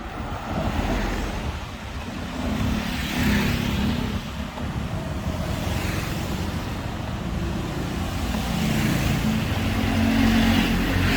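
Motorcycle taxis and other traffic pass along a narrow Bangkok side street, engines swelling and fading in repeated waves over a steady roadway hum, with no one speaking.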